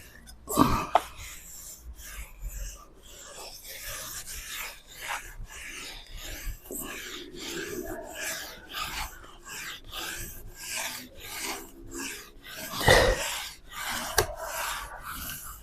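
Hand rubbing over a wooden tabletop surface to smooth it and push out air bubbles, a steady rasping scrub in repeated strokes, close and fairly loud, with a few louder scrapes.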